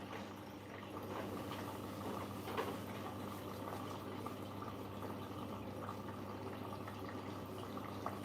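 Washing machine filling with water for a two-rinse cycle on a smaller cottons 60 load, a steady close rush of running water with faint gurgling and a low hum, continuous and unchanging throughout.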